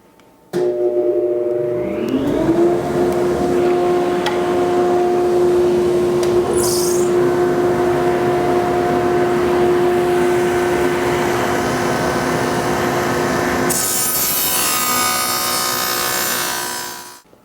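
A table saw fitted with a dado stack spins up and runs steadily while cutting cabinet panels, a loud continuous whine that holds for over ten seconds before winding down, with no talking.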